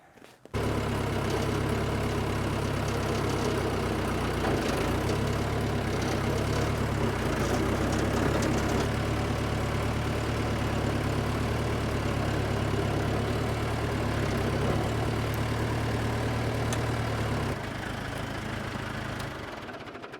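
A John Deere 450B crawler dozer engine runs steadily at a low, rough idle while warming up, a continuous heavy diesel drone that holds for nearly the whole stretch before easing slightly near the end.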